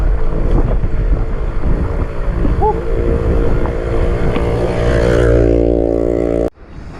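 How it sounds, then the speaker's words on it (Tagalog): Loud, constant strong wind buffeting the microphone on a foggy bike ride, a low steady roar with a deep hum running underneath, before it cuts off abruptly near the end. "Gaano kalakas yung hangin."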